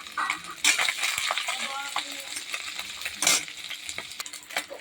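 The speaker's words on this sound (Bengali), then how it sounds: "একে একে সব মাছগুলো ভাজা হয়ে গেল" Fish fries in a pan with a steady close sizzle, broken by light metallic scrapes and clinks of a utensil turning the pieces.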